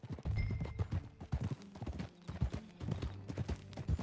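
Horse hooves clip-clop in a steady trotting rhythm while riding in the video game Red Dead Redemption 2, close and fairly soft, with a faint whinny early on.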